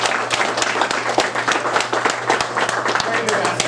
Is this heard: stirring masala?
no